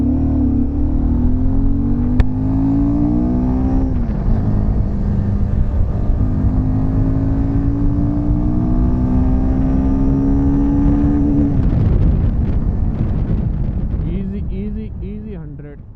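A Royal Enfield Himalayan 450 motorcycle ridden on the road, its engine droning loudly and rising in pitch through the gears, with a drop at each shift, under heavy wind rush before slowing near the end.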